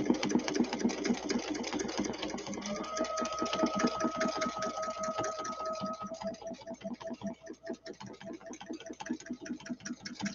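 A sewing machine stitches quilt blocks in a rapid, even mechanical patter, close and steady, with a brief whine partway through and a few shifts in pace, no talking.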